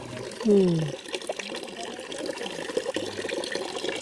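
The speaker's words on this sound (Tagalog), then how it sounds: "Tuloy-tuloy doon ng tubig. Malakas." Spring water runs steadily and forcefully into a container, a continuous splashing stream with a brief tonal sound near the start.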